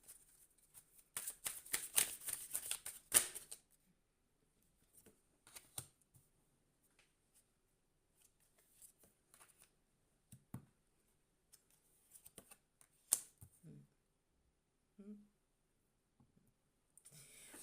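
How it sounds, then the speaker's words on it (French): Tarot cards shuffled by hand, a quick burst of crisp riffling flutters up front, followed by sparse soft taps and card handling, close and quiet with no speech. "un instant que je brasse les cartes"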